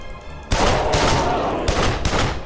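Gunfire in a video game, fired for a headshot, comes as loud, close bursts of rapid shots, with several sustained volleys and brief gaps between them.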